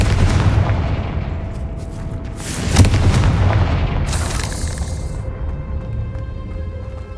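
Confringo fire spell from Hogwarts Legacy bursting against spiders, a loud booming blast near the three-second mark over a steady dense rumble, followed by a bright crackling hiss that fades.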